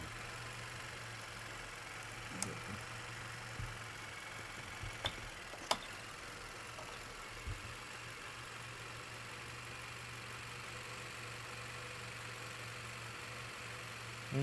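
A 2017 Vauxhall Astra 1.4 turbo petrol engine idles roughly with a low, steady hum, broken by a few faint ticks and small knocks, with lean fault codes present.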